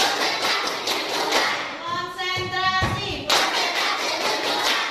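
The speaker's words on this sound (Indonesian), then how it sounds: "Tepuk satu, tepuk dua," Students in a classroom clap in bursts during a counted concentration exercise, short group claps broken by a pause where a voice speaks.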